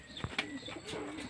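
Pigeons coo softly, with a few low, brief calls in quick succession against a quiet background.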